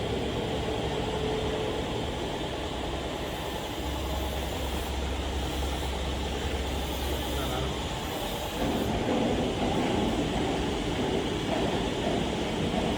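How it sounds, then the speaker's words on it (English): A steel pipe hole punching and collaring machine trims a tube head, giving a steady loud industrial hum and mechanical whir with rhythmic grinding texture that shifts partway through. "this is a tube head trimming"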